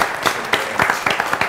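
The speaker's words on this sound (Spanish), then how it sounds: "Un aplauso para el Día Mundial de la Nutella." A studio audience claps through a cooking show segment, a steady burst of applause with scattered sharper claps rising and falling over a second and a half.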